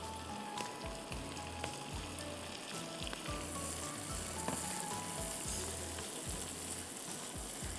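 Sliced onion sizzles steadily in hot oil with ginger and garlic, a continuous loud frying hiss with occasional stirring scrapes and a low hum beneath.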